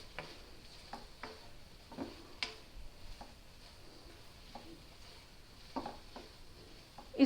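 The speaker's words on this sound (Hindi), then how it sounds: "और फिर इसको अच्छे तरीके से भूनूंगी।" Pumpkin halwa roasts in ghee in a pan while a spoon stirs it, giving soft scraping taps and faint sizzling at scattered intervals, quiet and close with no talking.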